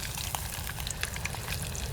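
Meat shallow frying in a pan with oil halfway between deep and shallow frying gives a steady, close sizzle scattered with small crackles and pops.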